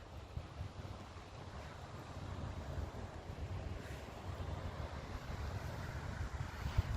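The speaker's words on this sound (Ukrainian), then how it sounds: "Хвилі моря, ви чуєте?" Steady broadband wash of sea surf on a rocky Netherlands shore, with wind buffeting the microphone, continuous and fairly loud, no voices.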